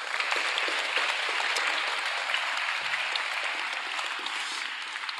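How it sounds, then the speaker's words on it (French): Audience at a school event clapping for a committee president, an even, dense patter of many hands that holds steady at moderate level throughout. "si on peut l'applaudir aussi s'il vous plaît."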